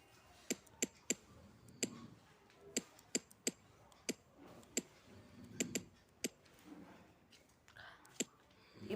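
Computer keyboard keys clicking, sharp isolated taps in irregular bursts, close and fairly quiet, with faint room noise between strokes.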